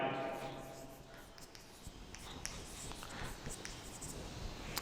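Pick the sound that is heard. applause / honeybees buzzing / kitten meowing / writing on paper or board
writing on paper or board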